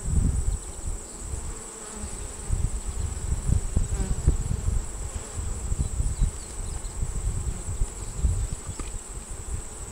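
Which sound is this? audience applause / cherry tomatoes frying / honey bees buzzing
honey bees buzzing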